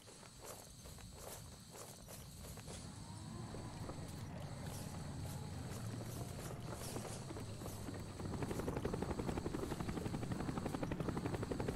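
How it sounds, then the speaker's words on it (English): Helicopters in Call of Duty: Black Ops make a loud, continuous rotor drone that builds and thickens toward the end, with footsteps and scattered impacts mixed in. "We're taking heavy fire from the helicopters."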